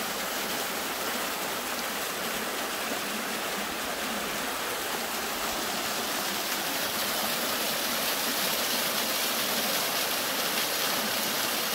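Water pours steadily over the waterfall at Falling Waters Preserve, a broad, continuous rushing hiss that stays even and close throughout, with no voices.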